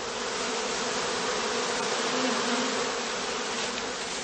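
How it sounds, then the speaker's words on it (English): Dense, steady buzzing of a honeybee swarm clustering near straw skep hives on heathland, a loud continuous drone filling the whole stretch with no pauses. "They collect to form a swarm cluster of increasing size."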